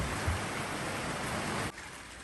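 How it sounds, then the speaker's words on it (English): Steady rain falls on a boat hauled out in a boatyard with newly installed front windows, a dense even hiss that drops slightly near the end. "I'd like you to stop raining now, so we can take that one out."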